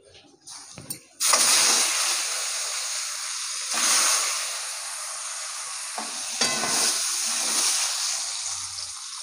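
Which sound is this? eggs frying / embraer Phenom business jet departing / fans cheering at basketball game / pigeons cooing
eggs frying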